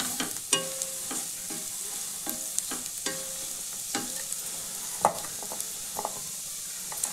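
Spice powders of turmeric, chili and cumin being stirred in a pan for palak paneer, with repeated scraping strokes of a spoon over a low sizzle of frying, steady and close with no talking.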